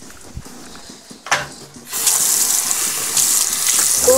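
Water running from a tap into a sink: a clunk of the handle, then a steady close gush of flowing water that goes on to the end, with no talking.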